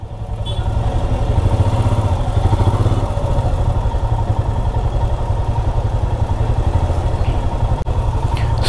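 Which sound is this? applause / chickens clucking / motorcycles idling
motorcycles idling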